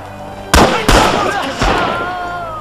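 Gunfire in the Red Orchestra 2 combat video game: two sharp, loud shots in quick succession, then a third more distant-sounding report, each trailing off in echoing decay.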